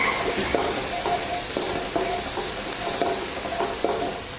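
Finely chopped garlic sizzles steadily in a pan, with a constant frying hiss broken by regular scraping stirs of a spoon.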